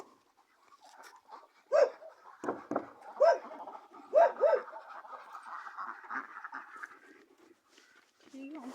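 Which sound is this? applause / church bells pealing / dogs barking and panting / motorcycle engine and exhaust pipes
dogs barking and panting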